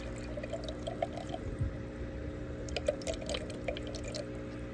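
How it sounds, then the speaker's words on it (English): Water scooped and poured into a container during peppered cory catfish egg collection, with small drips and splashy trickles over a steady aquarium hum, close and fairly quiet. "So I'm gonna scoop a little bit of water in there."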